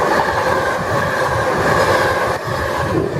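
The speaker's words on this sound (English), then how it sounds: "Here comes Pendolino to London Euston" A Pendolino train bound for London Euston passes through Milton Keynes Central, a loud, close, continuous roar of wheels and rushing air that holds steady throughout, with a slight dip near the end.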